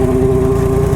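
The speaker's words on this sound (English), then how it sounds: "It has some aftermarket exhaust." A Yamaha MT-09 motorcycle engine fitted with an aftermarket exhaust idling close by, a steady, loud, even drone with a firm low pulse throughout.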